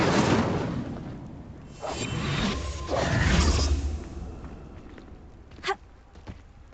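Incendio fire spell cast in Hogwarts Legacy, a broad rushing whoosh of flame swelling and fading over a few seconds, followed by a brief sharp hit and a softer trailing thump.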